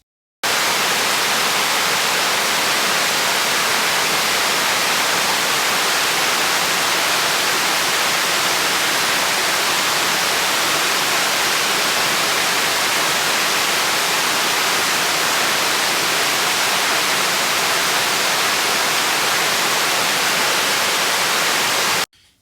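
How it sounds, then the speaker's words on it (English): Stream waterfall pouring in a steady, dense broadband rush that stays loud and unchanging from start to finish, with no voices and no other sounds standing out. "Videos captured the ambient sound of the falling water, the rustle of the wind,"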